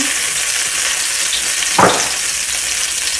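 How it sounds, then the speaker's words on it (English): Garlic and chili sizzle steadily in a pan over medium heat for pork fried rice, a loud close frying hiss with one brief stirring scrape midway. "ใส่กระเทียมกับพริกนะคะทำให้หอมๆ"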